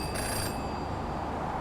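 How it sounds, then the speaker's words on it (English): A single short ring sounds from a phone booth telephone in the video game Jenny LeClue and then fades into steady ambient game background. "Ah, phone call."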